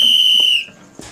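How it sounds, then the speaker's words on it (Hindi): A single sharp, high whistle blast in a crumbling old fort at night, holding steady for about half a second before cutting off, followed by a faint short chirp near the end. "तभी किसी की सीटी की आवाज आई"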